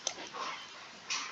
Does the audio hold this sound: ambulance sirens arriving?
no